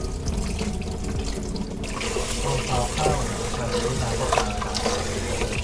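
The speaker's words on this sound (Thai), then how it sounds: "อันนี้นะคะซาวครั้งที่5นะน้ำก็เริ่มใสประมาณหนึ่งแล้วแหละ" Tap water runs steadily into a sink while Japanese rice is rinsed by hand for the fifth time, a continuous close splashing trickle with the grains swishing in the bowl.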